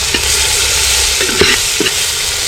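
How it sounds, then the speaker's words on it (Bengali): Ground cumin fries in hot oil in a village kitchen for an egg and spinach curry, giving a steady broadband sizzle with a few sharp spoon-on-pan scrapes and taps near the end. There is no talking. "জিরে গুঁড়ো দিয়ে দিলাম, জিরেটা আগে দিয়ে দিলাম কারণ একটু জিরেটা তেলের মধ্যে ভেজে নিলে"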